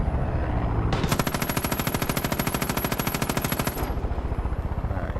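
Rapid machine-gun fire from a helicopter in the video game Far Cry 5, a dense unbroken burst of loud shots lasting about three seconds over a steady rotor drone.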